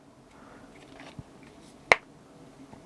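A plastic Spigen case snaps onto an iPhone 13 with one sharp, crisp click, preceded by a softer tap and set against a quiet room.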